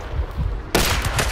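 A loud, sharp gunshot from the video game Hunt: Showdown bursts out suddenly after a short stretch of quieter background noise, followed by a booming, reverberant tail with no voices.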